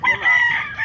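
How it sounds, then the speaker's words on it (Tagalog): A rooster crows close by inside a poultry farm, a brief, loud, strained call rising and holding over faint background clucking. "ang tatapang ng mga manok dito."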